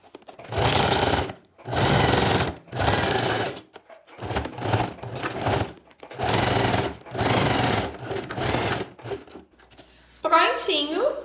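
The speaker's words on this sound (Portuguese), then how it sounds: "eu pego a divisória e encaixo aqui e costuro com uma sapatilha da mesma forma" A sewing machine stitching fabric dividers for a hive-style organizer, running in several loud bursts of about a second each separated by short pauses, with a brief tonal sound at the very end.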